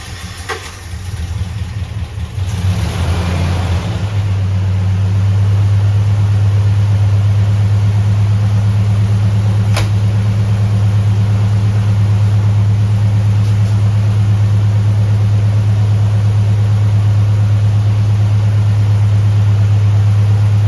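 A newly installed, freshly primed replacement unit on a rollercoaster starts up and settles into a loud, steady low hum with a broad hiss, running alone with a couple of faint clicks.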